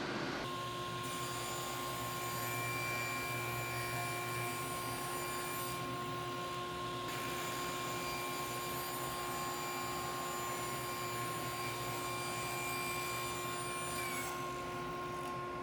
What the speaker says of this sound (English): now I'm just going to run it through on the table saw and cut it into 3-inch slices